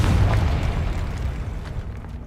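A Confringo spell explosion in the video game Hogwarts Legacy, one booming blast up front whose rumble decays over a couple of seconds, alone with no talk.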